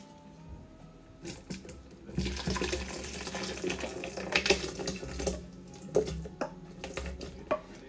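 Liquid for a smoked chicken curry splashes and pours into a Vitamix blender in bursts, with light clinks and knocks, fairly close and moderately quiet.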